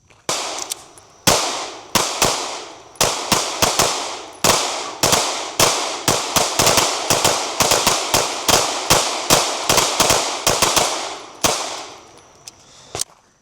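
A Tisas PX-9 Duty Comp 9mm pistol fires at a shooting range, a long string of loud, sharp shots in quick, slightly uneven rhythm, each crack trailing off into a short echo.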